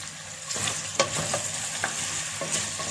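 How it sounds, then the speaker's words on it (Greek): Finely diced potato cubes sizzle in a pan of hot oil while being stirred, a steady loud fry with scraping knocks from the utensil and no talking. "Και βάζουμε το λαδάκι 3/4 λάδι και ρίχνουμε μέσα πατατούλα."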